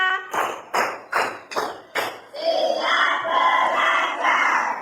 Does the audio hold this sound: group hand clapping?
yes